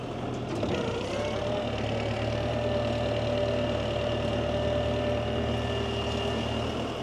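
A tractor engine running steadily while planting a food plot, a low droning hum that rises slightly in pitch near the start and then holds, with no voices.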